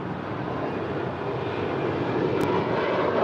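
A 14-year-old United Boeing 737-900ER jet airliner bound for Cancun at LAX gives off a steady, loud engine roar, a broad unbroken rumble held for a few seconds with no voices over it.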